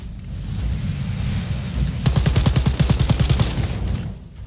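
Rapid automatic gunfire in the shooter game Wolfenstein: Youngblood, a fast burst of sharp repeated shots that follows about two seconds of rumbling game ambience, loud and close.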